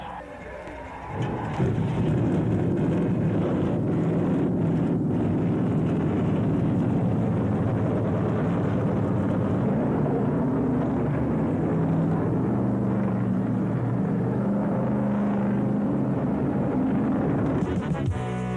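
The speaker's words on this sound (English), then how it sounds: "Gentlemen, start your engines." Stock car engines at the 1985 Carolina 500 at North Carolina Motor Speedway in Rockingham fire up together into a dense, loud, continuous roar that holds steady for many seconds.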